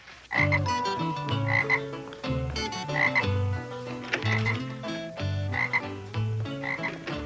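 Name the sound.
frog croaking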